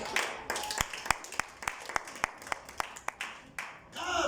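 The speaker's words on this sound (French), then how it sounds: "On acclame pour la gloire du Seigneur." Congregation in a church applauding in rhythm, with sharp, evenly spaced claps and a rising cheer at the end, heard from mid-distance.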